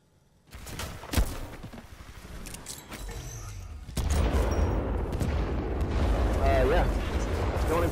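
Rapid L-STAR energy gun fire from Titanfall 2, a dense run of loud bursts filling most of the stretch, with game effects and a voice talking over it.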